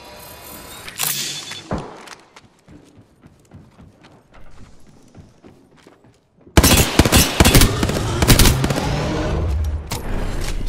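Gunfire in the video game Apex Legends: sparse, scattered shots at first, then a loud, dense barrage of rapid automatic fire that continues steadily to the end.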